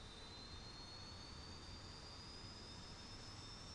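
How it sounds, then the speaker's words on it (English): Aircraft engines spool up in the Infinite Flight simulator, a constant, even jet roar with a thin high whine held steadily throughout, fairly quiet and with no voices. "You can hear all the planes firing up."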